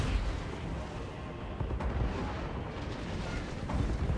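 Artillery fire from a Greenskins campaign battle in the video game Total War: Warhammer: a dense, continuous rumble of booming shots and blasts, loud and sustained throughout with no pauses.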